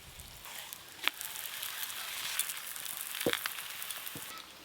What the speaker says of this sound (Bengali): তাওয়া গরম হয়ে গেছে, এবার পরোটাগুলো ভেজে নেব